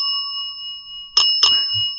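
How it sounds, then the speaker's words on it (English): A small bell indoors at night gives two bright, close dings about a quarter-second apart over a steady high electronic tone, with no voices. "I just don't know what can make this bell go off."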